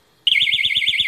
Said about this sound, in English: I'm gonna put my little alarm back in. I should probably test if it still even works.